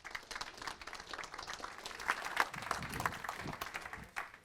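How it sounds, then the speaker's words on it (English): Audience applause as a speaker is welcomed onto the stage at a crypto book launch event, steady indoor clapping from a crowd at moderate level with sharp individual claps standing out. "Okay, big round of applause."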